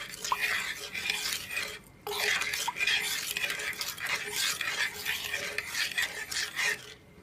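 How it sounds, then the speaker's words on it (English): A spoon scraping and stirring a sticky sauce in a pan for honey chili chicken, continuous close rasping strokes with a brief pause, and no talk. "Then just stir it."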